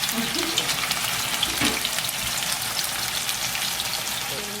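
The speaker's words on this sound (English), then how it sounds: "If your grease doesn't sizzle when you put your meat in it, it's not hot enough." Meat sizzling in hot grease in a home kitchen pan, a steady dense crackle and hiss running close and fairly loud throughout, with no talk over it.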